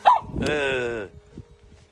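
A dog out on a walk gives a single loud bark close by, a sharp yelp followed by a sustained drawn-out bark, with a voice heard faintly around it.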